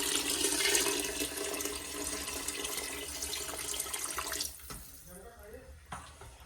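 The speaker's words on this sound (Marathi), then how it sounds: "जस्ट पाणी टाका. पाणी टाकायचं." Water pours steadily into a cooking pot for rice, a continuous broadband splash that runs loud for about four and a half seconds, then stops abruptly, leaving faint trickles and a small clink near the end.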